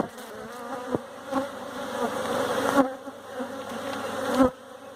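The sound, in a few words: honeybees buzzing in a hive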